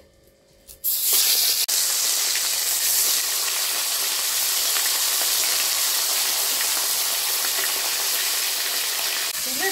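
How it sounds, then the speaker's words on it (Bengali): A salted, turmeric-rubbed fish head frying in hot oil gives a loud, steady hiss and sizzle that starts abruptly and fills the whole stretch close up, with no voices. "মাছের মাথাটা ভালো করে ভেজে নেব"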